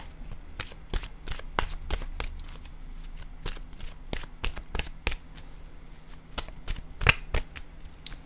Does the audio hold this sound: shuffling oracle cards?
yes